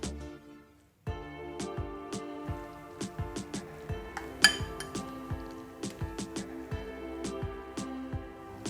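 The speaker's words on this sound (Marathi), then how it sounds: "आता यामध्ये चवीनुसार मीठ घालून व्यवस्थित मिक्स करून घेऊया" A spoon clinks and scrapes against a bowl, mixing curd and salt for a radish salad in a steady stirring rhythm, close and fairly quiet.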